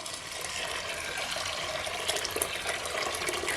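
Hot water pours steadily into a cooking pot holding washed fava (split yellow peas) from Feneos, a continuous splashing stream that stays close and even for several seconds with no talk.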